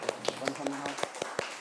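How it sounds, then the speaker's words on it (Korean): Applause in a Korean education committee meeting for a retiring administrative director, a sparse handful of separate claps in an uneven rhythm, fairly faint, with a voice murmuring underneath. "우리 문명 행정국장을 위해서 우리 박수 한번 부탁드리겠습니다"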